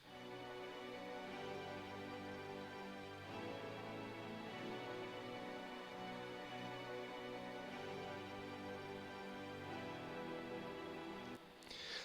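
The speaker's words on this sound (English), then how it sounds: "I have some strings that play the chords as well" Layered Nexus hybrid string patch playing sustained chords in an FL Studio future bass / chill pop production, a steady full-bodied pad that changes chord every few seconds and cuts off just before the end, with no talking.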